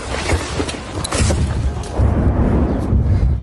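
Deep, rumbling booms of explosions roll in one after another during fighting at Shebekino, loud and close, with a heavy low thud swelling near the end.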